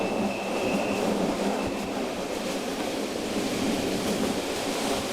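Steady rumbling noise of a train on the Jungfrau route toward Grindelwald in Switzerland, a constant broadband roar, close and continuous, with no voices.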